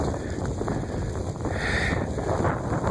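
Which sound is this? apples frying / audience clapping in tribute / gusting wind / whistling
gusting wind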